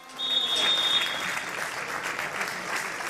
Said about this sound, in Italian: squadre applaudite